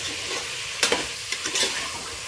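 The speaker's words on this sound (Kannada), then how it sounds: "ಈಗ ಅದನ್ನು ಕೂಡ ಚೆನ್ನಾಗಿ ಮಿಕ್ಸ್ ಮಾಡ್ಕೊಳ್ಳೋಣ ಸ್ವಲ್ಪ ಚೆನ್ನಾಗಿ ಹಸಿ ವಾಸನೆ ಹೋಗಬೇಕು ಆ ರೀತಿ ಚೆನ್ನಾಗಿ ಫ್ರೈ ಮಾಡ್ಕೋಬೇಕು" Field beans (avarekalu) are stirred and fried in a pan, giving a steady close sizzle with a few sharp spatula scrapes and clacks in the middle; no talking.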